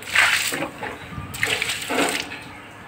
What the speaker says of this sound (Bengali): এই দেখো টাইম কলের জল পড়ছে